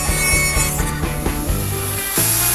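A Dremel rotary tool with a cutting disc slicing through a glass mirror, giving a continuous high, whining grind with a rough scraping texture that stays loud and close throughout.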